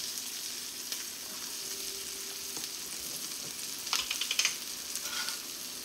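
Onions sizzle gently in melted butter for steak and chicken fajitas, a soft steady frying hiss with a few brief clatters and scrapes toward the end, no talk.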